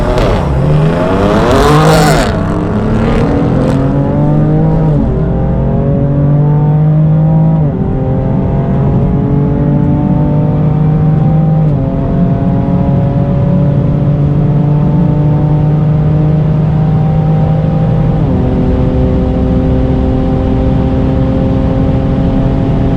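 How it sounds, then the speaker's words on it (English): A BMW F80 M3 with a Mosselman hybrid turbo kit accelerates hard, its engine note climbing through several gear changes in a loud, sustained roar heard from inside the car. "I can't launch this car, so I'm just going to have to just gradually work my way down the gears"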